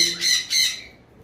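Two sharp, harsh bird squawks in quick succession, loud and close, then quiet.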